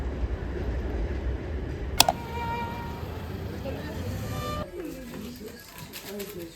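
A train rolls along during a trip in Finland, a steady low rumble with one sharp metallic click partway through before the rumble drops away to a quieter, thinner background.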